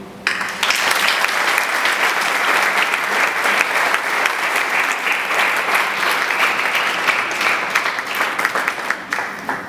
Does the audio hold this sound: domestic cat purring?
no